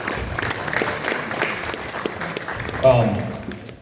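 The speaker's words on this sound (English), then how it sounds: "Just give yourselves a round of applause, please." A crowd of family, friends, players and coaches applauds at a college football commitment event, a steady wash of clapping with cheers, while a voice talks over it near the end.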